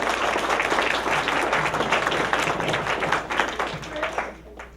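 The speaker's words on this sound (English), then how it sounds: "Round of applause for everybody here." Audience applause fills a talk venue, a dense, steady crowd clapping that carries loudly throughout before tapering slightly near the end, with faint voices underneath.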